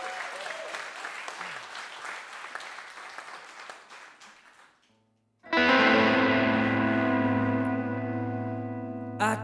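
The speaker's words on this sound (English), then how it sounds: "I'm going to give myself a little clap first." A lone person's hand clapping, a dense patter of claps with some echo, running for about five seconds before cutting off, then giving way to sustained music.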